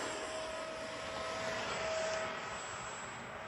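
A Freewing 70mm F9F-5 radio-controlled jet at about half throttle sweeps past, its steady whine swelling to a peak midway and then fading as it flies off, with no talk over it.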